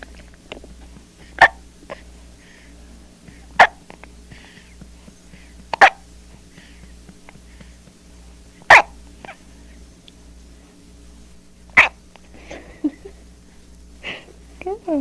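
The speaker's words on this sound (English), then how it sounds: "he's got the hiccups" A baby hiccuping after a feeding, a string of short sharp hiccups spaced a few seconds apart, close and distinct over a steady low hum, with soft adult murmuring between them.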